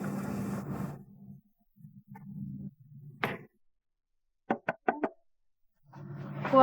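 Four quick, sharp knocks rap on a door in close succession, set between stretches of low indoor background hum.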